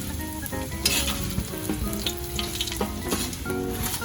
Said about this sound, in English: You put in the Hostia and let's mix it.